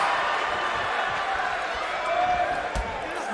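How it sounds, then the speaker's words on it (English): A wrestling crowd cheers and roars continuously at a steady, loud level, with thumps from the ring and a commentator's voice layered over the noise. "The crowd is going wild."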